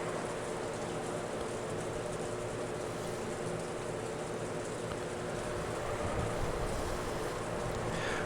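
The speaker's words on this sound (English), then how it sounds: "All that could be heard was the sound of the rain, which hadn't stopped falling since last night, and the howl of the wind." Rain falling in the Umineko visual novel, a steady, even downpour hiss with a low wind-like rumble, continuous and moderately quiet throughout.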